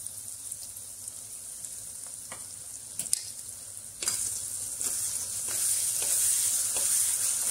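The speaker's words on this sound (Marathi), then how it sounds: "यात आपण खोबरा, लसूण, हिरवी मिरची आणि कोथिंबीरचं वाटण घालून घेऊ।" A paste of coconut, garlic, green chilli and coriander fries with tomatoes and spices in a pan for jackfruit bhaji, sizzling steadily up close with intermittent scrapes and taps, growing louder in the second half.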